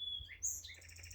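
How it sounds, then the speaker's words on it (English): Birds chirp at a woodland lakeside camp near a river eddy, a few quick high tweets with one brighter call midway, faint over a low steady background hum. "Birds are singing."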